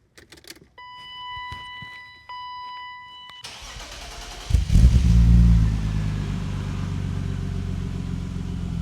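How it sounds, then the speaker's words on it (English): A 1995 BMW E36 M3 engine cranks and catches a few seconds in, then settles into a loud, steady idle close by, following a quiet stretch with a few faint clicks. "I'm gonna start the car up and hopefully it gets up to temperature."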